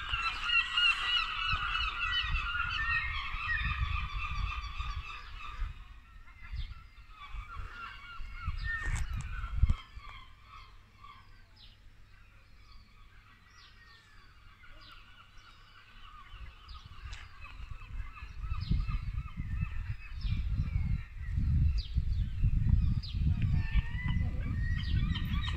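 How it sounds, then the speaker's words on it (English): Geese or other waterfowl with small ducklings on a coastal walk in Staithes, North Yorkshire, honking and calling repeatedly at close range, with low rumbling outdoor noise underneath that fades midway and returns. "Oh, we've got a few little ducklings here."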